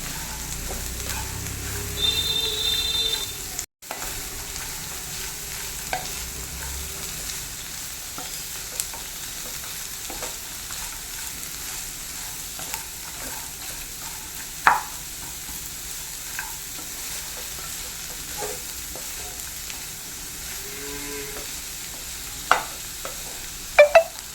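Beans stir-fry sizzling steadily in a pan, a low continuous fry with occasional faint clicks and scrapes of stirring, close and fairly quiet, with no voices.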